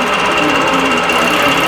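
An embroidery machine stitching out a feather design gives a steady, close, rapid mechanical whir and needle chatter that holds unbroken throughout, with no talk.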